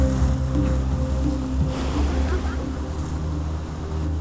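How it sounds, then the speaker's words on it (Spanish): Water of the Río La Miel waterfall rushes in a constant, deep roar that stays loud and fairly close throughout, with no talk over it. "observar en lo profundo el rumor que trae el agua, palpar su fuerza y capturar su sonoridad"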